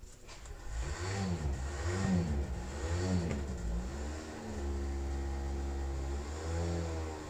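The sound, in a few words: motorcycle engine running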